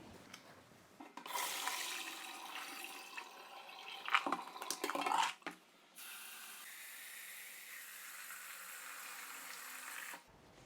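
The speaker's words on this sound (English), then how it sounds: "we put the basket on the top and we pour out the water" Brining water splashes and pours out of a basket of olives in a gushing stream for a few seconds, followed by a softer steady trickle that stops abruptly.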